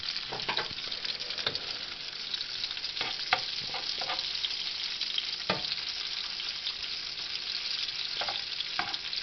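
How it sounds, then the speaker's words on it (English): Chopped meat frying with bacon in a frying pan for a pot of chili, giving a steady close sizzle with occasional crackles and pops and no talking. "I'm putting it in small pieces all along the frying pan. That's going to cook along with the bacon."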